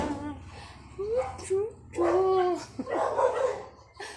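Dogs bark and yip several times at close to moderate distance, with a voice talking alongside them.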